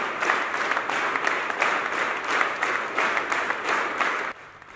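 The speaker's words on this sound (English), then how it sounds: "Participants engaged in a spirited clapping at varying intensities throughout the duration of the record-breaking event." A large crowd clapping vigorously at a record-breaking clapping event held by Phaneroo Ministries International, a thick wash of hands in pulsing surges that drops away abruptly near the end.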